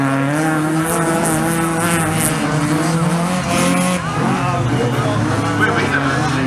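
Race cars at the Fol'Car event in Laon, part of a French cup round, roar close by with squealing, skidding tyres and revving engines, while spectators chat over the din.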